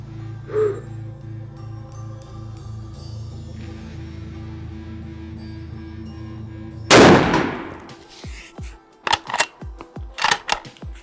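A MAS 36 bolt-action rifle on a target range fires a single loud, sharp shot after a quiet lull, followed by a series of crisp metallic clicks and clacks.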